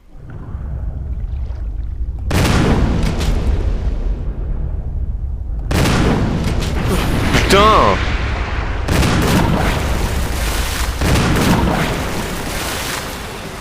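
Shotgun blasts in the Resident Evil video game: several loud, booming shots fire in separate bursts, each with a long reverberant tail, and a voice talks over the gunfire.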